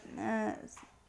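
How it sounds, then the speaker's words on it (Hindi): Village dogs at night give a single drawn-out, whining bark or howl at a moderate distance, lasting under a second and fading into quiet. "थोड़ी दूर गांव के कुत्ते भौंक रहे थे।"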